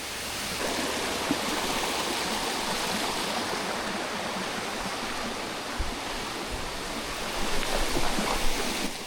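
Tone Lak Sai waterfall in a forest on a jungle hike pours in a constant broadband rush of falling water, steady and fairly close, with no voices over it.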